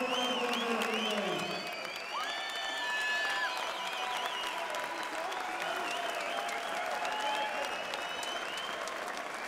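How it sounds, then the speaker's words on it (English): A crowd at a British bantamweight championship boxing match applauds the two boxers with sustained, dense clapping that fills the hall, with some faint voices and tones beneath. "I'm truly glad to give a big round of applause to two boxers"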